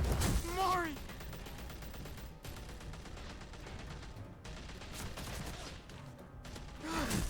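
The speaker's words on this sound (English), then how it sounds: "with gunfire raining down on the group" Gunfire in The Walking Dead video game: a dense, continuous spray of shots and clattering noise that runs for several seconds, loud and steady, with a shout near the start.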